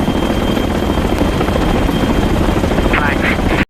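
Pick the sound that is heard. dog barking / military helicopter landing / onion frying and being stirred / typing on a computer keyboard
military helicopter landing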